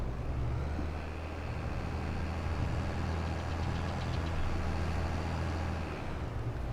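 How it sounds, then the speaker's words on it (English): A Massey Ferguson tractor engine in Farming Simulator 22 runs at a steady low idle-like drone, constant and moderately quiet with no breaks or speech. "That's the Massey Ferguson. Use a smaller tractor, so I use less amount of fuel."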